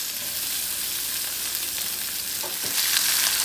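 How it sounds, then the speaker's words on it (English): Onions hit a hot pan that was just used to cook sausage and sizzle loudly and close by in a dense, continuous hiss, with a brief utensil scrape near the end. "Let's get our onions in here."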